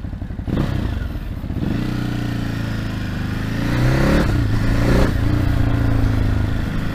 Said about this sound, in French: C'est vraiment un joli bruit ce moteur. Ça ronronne quoi.